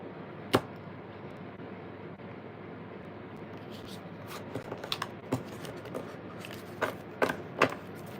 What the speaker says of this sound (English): Trying to get y'all a good shuffle.